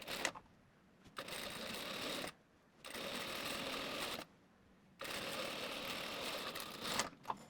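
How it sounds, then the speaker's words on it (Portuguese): A sewing machine stitches fabric with a 1 cm seam allowance, running in three steady bursts of rapid mechanical whirring separated by short pauses, close and fairly quiet, with no voices. "E vou vir aqui, ó, na parte de baixo, ó, costurando com 1 centímetro de margem."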